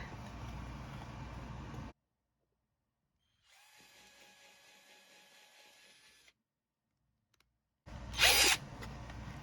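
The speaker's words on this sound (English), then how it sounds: "I'm also going to drill a quick hole on the back" A power drill whirs for a couple of seconds, goes quiet, then whines steadily for about three seconds before a short burst of sharp scraping noise.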